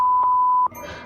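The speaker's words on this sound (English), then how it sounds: "Although the door alarms him" A door alarm sounds two sharp electronic beeps about half a second apart, loud and close, with a burst of rustling noise following.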